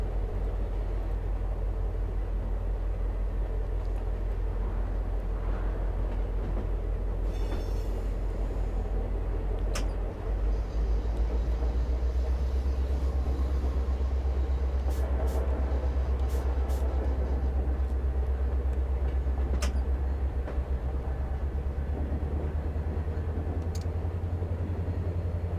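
Two H1 freight trains roll past in the Run 8 train simulator game: a loud, steady, low diesel rumble that deepens as the second one arrives, with brief higher hisses and squeals on top.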